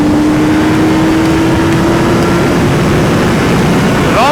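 A Honda CBR 650R E-Clutch motorcycle accelerates uphill, its engine droning loud and steady as the revs climb slowly, with heavy wind rush throughout.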